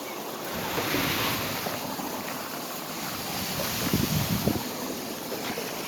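Creek water beside a roadside waterfall on PR-174 in Aguas Buenas, Puerto Rico, rushes in a steady broadband wash with some wind buffeting the microphone, holding fairly even throughout with a slight swell near the end.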